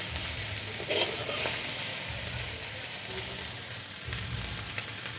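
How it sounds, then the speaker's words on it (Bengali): Brinjal slices frying in hot oil, a loud, continuous close-up sizzle with a few faint spatula touches, no talk. "এভাবে করে লাল লাল করে বেগুন ভেজে নিতে হবে।"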